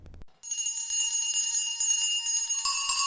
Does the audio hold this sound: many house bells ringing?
yes